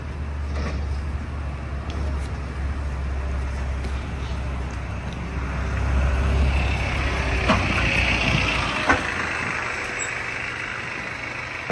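Bus VWH2048 rumbles past at Elstree & Borehamwood Station, a low steady engine drone that grows louder midway as it passes close by, with faint hiss and clatter around it and no talk.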